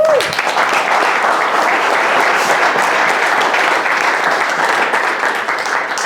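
A roofing-event audience bursts into loud, continuous applause for Nate, a thick, unbroken roar of clapping from a large crowd with a brief voice at the very start.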